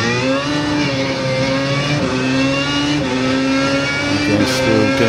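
An open-wheel race car engine in iRacing revs hard up through the gears, loud and close, with a steady high whine stepping up at each quick shift.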